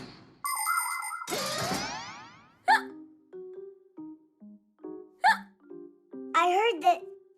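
A cartoon character hiccups several times in an irregular rhythm, each hic a bright, bouncy, springy cartoon sound effect, mixed with other chiming cartoon effects and a voice.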